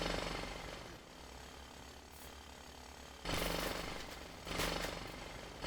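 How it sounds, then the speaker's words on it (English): A Kango hammer, or jackhammer, in the video game Dinkum pounds in loud rapid bursts. A sustained hammering run cuts off, and two more strong bursts follow after a short lull. "Oh, so it's like a Kango hammer."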